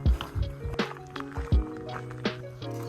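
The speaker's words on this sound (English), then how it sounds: "There's a bit of leaking water over there" Water dribbles and drips from a leaking toilet water tank on a hiking trail in Queensland, close by, with irregular wet splashes and gurgles over a few seconds and no talking.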